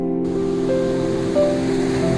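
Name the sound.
sea waves on Puri beach at night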